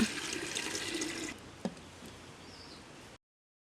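Water poured into a cooking pot on a Tamil kitchen stove before adding Garudan samba rice, a steady splashing pour for over a second that then fades to a quieter trickle, close by, with no talk.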